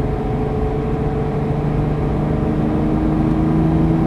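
A Lamborghini LP640 engine holds a steady cruise on a racetrack, giving a continuous loud, even drone with constant tonal hum from inside the car and no change in throttle.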